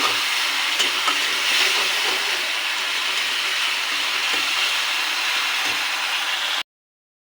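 Potatoes being stirred and fried in a spice masala, a steady close sizzle with faint scraping of the spoon across the pan, continuous and fairly loud until it stops abruptly near the end.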